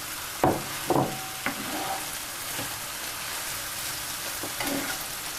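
Boiled ingredients roasting in masala in a pan, with a soft steady sizzle and a handful of spoon scrapes and knocks spaced irregularly, nearby and moderately quiet.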